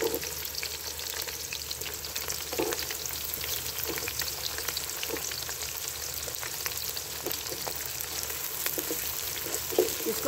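Onions frying in a pot of oil for mutton pulao, a steady close sizzle with occasional crackles and stirring scrapes throughout.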